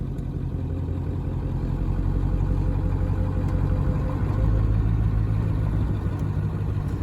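A heavy 7.3 Powerstroke diesel truck engine rumbles steadily up close, deep and throaty, with a slight swell in loudness midway.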